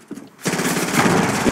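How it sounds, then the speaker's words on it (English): Submachine gun fire in Fortnite, a rapid close burst of shots rattling continuously after a short quiet lead-in. "The OP meta C4 submachine gun"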